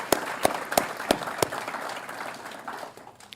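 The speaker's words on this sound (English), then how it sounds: "So if they're here, can you please give them a round of applause?" An audience at a retirement ceremony for a lieutenant colonel applauds a junior Navy ROTC color guard. A few loud, distinct claps stand out at the start over general clapping from a small crowd, which gradually fades away.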